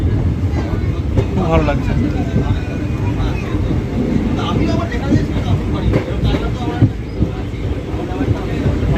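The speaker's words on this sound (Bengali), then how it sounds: "ট্রেনটা ভীষণ স্লো যাচ্ছে এখানে" Teesta Torsa Express running slowly, heard from the open door of a carriage: a loud, steady rumble with wind rush and faint rhythmic rail clatter, as a person speaks briefly over it.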